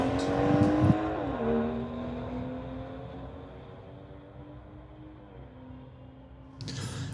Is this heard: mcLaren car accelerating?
yes